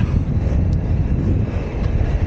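Strong wind buffets the microphone at Signal Hill above Cape Town, a steady, loud low roar with gusty rumble that continues throughout, with no voices.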